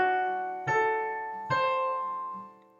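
Piano dominant seventh chord struck twice with a sustained ring between strikes, near and clear, no talk.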